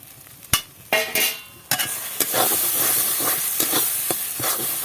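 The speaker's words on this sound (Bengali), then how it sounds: "হালকা আঁচে রেখে এটাকে এইভাবে নাড়ে নেড়ে নেড়ে শুকনো করে নিতে হবে" Yardlong bean paste is stirred in a pan over low heat to dry it out, with sharp spatula knocks and scrapes over a soft, constant hiss.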